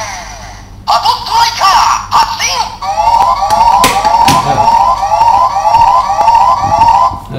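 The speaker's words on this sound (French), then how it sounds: "voilà, après on a la sirène" A Gokaiger Patstriker toy's electronic siren starts in short bursts, then settles into a steady, fast warbling wail, loud and close, without speech.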